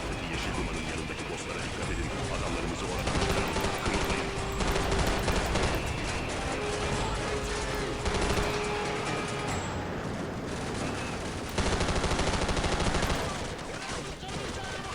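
Near-continuous gunfire fills a firefight in Call of Duty 4: Modern Warfare (2007), with dense rattling bursts and sharp shots that keep up throughout, loud and busy, with a little game noise mixed in.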